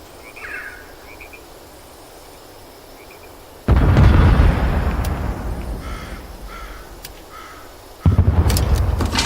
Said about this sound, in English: Load mortar fire.